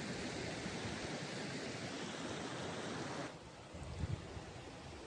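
Rushing water at the Satbakhra waterfall in Sundargarh, Odisha, roars as a broad, steady wash close by, dipping slightly partway through with a few brief knocks near the end.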